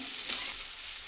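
Three medium chopped onions sizzle in hot oil in a wok, a steady, close, bright hiss with no break and no talk over it.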